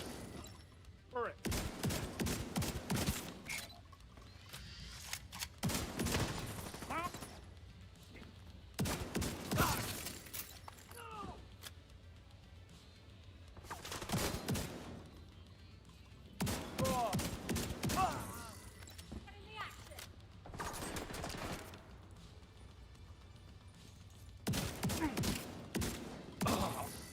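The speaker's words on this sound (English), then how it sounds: "This is one of the strongest shotguns that we have." Shotgun blasts in a video game firefight, loud bursts recurring every few seconds amid mechanical clatter and ratcheting, with people talking between shots.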